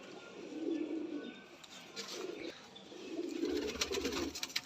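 Soft, low pigeon coos repeat in slow rolling phrases, with faint chirps and rustling nearby and no one speaking.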